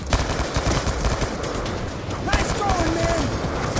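Rapid video game gunfire from Call of Duty: Black Ops II as a turret is shot, dense bursts running throughout over game effects, with a voice speaking briefly.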